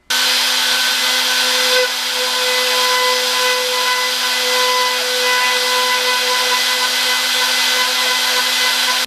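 Steady, loud high-pitched whine of a burr tool grinding a hole through carbon fiber motorcycle bodywork during a repair, continuous for the whole stretch with a constant tonal hum and no talking.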